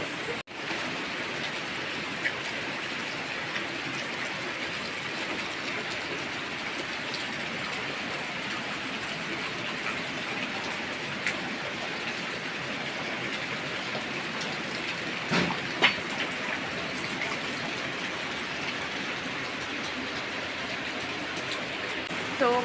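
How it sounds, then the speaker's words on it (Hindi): Heavy rain pours steadily in the mountains, a dense, even hiss that runs unbroken throughout, with a few faint knocks and no voices. "बहुत ही तेज़ वर्षा हो रही है"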